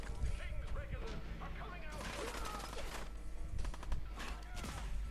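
Gunfire in the video game Fallout 4 cracks out in a few separate bursts, fairly faint, with someone talking over the shots.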